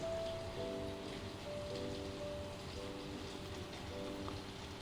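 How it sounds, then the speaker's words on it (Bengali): Banana coconut pitha batter frying in hot refined oil, a steady dense crackle and sizzle that stays even and moderately close throughout, with a faint tonal hum underneath. "একসাথে আমি একটা একটা করছি না, 2-3টে একসাথে দিয়ে দিচ্ছি, দিয়ে এটা ভেজে নেব"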